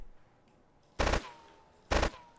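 Two loud, sharp AK rifle shots from a video game ring out close, just under a second apart, each cracking over quiet background and fading quickly.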